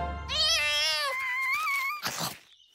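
A cartoon cat lets out a long, drawn-out wailing meow that rises and wavers, loud and close, followed by a brief rustle.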